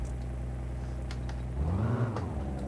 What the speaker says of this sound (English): Put on my seatbelt, turn on the car.